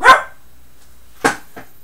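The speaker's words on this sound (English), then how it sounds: "She told me she wouldn't bark, but she did." A dog barks indoors, one sharp loud bark followed after a pause by a second bark and a softer short yip, with near silence between them.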